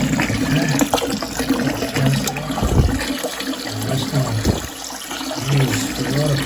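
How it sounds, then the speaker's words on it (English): Water rushes and gurgles into a Kohler toilet tank after a fill valve repair, a steady filling flow with a few louder splashes, close by. "turn the water back on"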